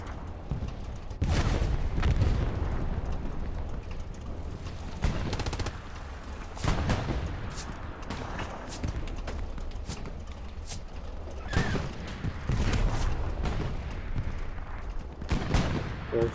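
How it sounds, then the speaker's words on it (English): Machine gun fire rattles in repeated bursts in the World War II game Hell Let Loose, mixed with other gunshots and distant battle noise, steady and fairly loud throughout without talk. "Crushing infantry with MG fire as soon as they pop their heads."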